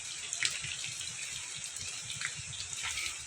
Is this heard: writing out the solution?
no